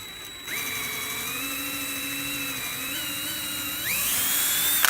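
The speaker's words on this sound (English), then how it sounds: "just go ahead and drill all the way down." Power drill boring straight down through a pocket hole in wood, a close, steady whine that holds pitch, dips briefly mid-way and rises near the end as the bit finishes, with no talking.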